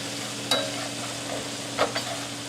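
Beef tallow with leftover steak bits sizzles steadily in a pan, a close, even hiss broken by a few sharp scrape-like stirs.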